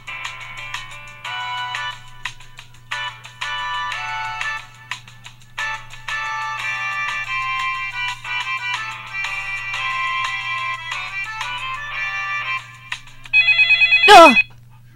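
A mobile game's phone ringtone plays a bright, repeating melodic pattern for several seconds, loud and alone, before a sharp sweeping electronic chirp cuts in at the end.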